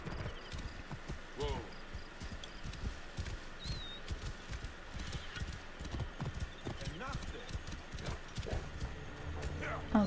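Horse hooves clop in a fast, rhythmic gallop in the video game Curse of the Pharaoh, with voices and other game sounds in the background.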